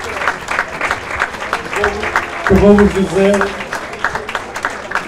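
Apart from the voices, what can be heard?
audience applause for a couple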